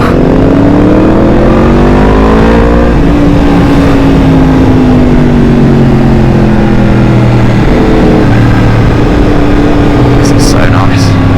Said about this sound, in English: my mate Dan in front's bike is running a little bit rich